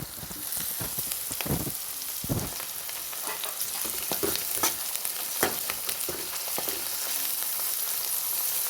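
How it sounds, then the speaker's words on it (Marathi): Onion and tomato fry in oil in a pan for a prawn dish, giving a steady close crackling sizzle with scraping stir strokes scattered throughout and no voices. "त्याला व्यवस्थित तेलामध्ये परतून घ्यायचं"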